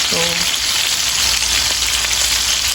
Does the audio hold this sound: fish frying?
yes